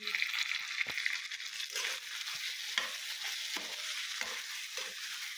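Potatoes with fresh home-grown coriander sautéing in a pan, a steady hiss of frying broken by repeated scraping stirs of a spoon, close and continuous.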